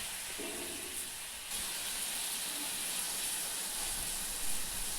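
Spices frying in a pan hiss and sizzle with a sudden loud surge as rinsing water is poured in, then keep up a steady, bright hiss.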